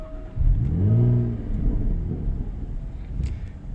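A warmed-up Jaguar F-Type engine revs once in a rising, throaty burst that peaks and then settles into a slightly muted idle rumble, recorded close with wind noise and no talking.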